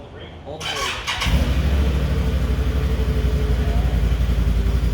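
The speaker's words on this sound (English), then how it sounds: "See if I can even get this motor started." A 2021 Can-Am Outlander 850 XMR ATV cranks briefly with a quick starter whir, then catches and settles into a loud, steady, throbbing idle up close.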